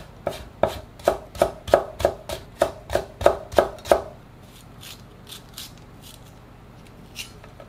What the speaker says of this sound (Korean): 당근도 한 30g만 곱게 채 썰어 주세요.